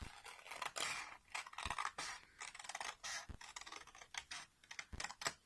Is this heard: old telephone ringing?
no